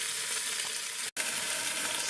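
Beef brisket browns in an Instant Pot with a steady, close, bright sizzle and frying hiss that barely breaks for an instant midway.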